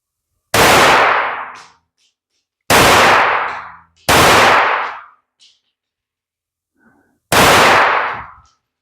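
A rifle fires .22 rimfire rounds from CCI and Magtech, with four loud, sharp reports close by and irregular gaps of silence between them. Each shot ends in a short decaying ring, and no one speaks.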